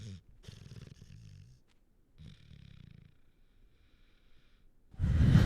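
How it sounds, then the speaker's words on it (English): A sleeping dog snores softly in a quiet room, giving a few faint, irregular rasping breaths, with a louder rustle or snort near the end. "My dog fell asleep. He's snoring over there."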